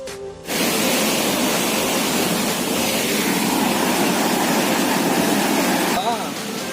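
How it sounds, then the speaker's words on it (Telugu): Kaigal waterfall roars as a loud, continuous rush of heavy water that starts abruptly and drowns out everything else. A brief voice is heard near the end. "వాటర్ ఎక్కువ వెళ్ళటం వల్ల సౌండ్ ఎక్కువగా ఉంది గైస్"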